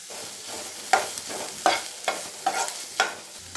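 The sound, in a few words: garlic and snake gourd frying in pan on low flame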